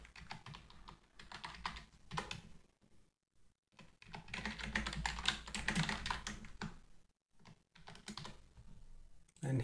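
Someone types on a computer keyboard in quiet bursts of rapid clicking, broken by short silent pauses, close but soft.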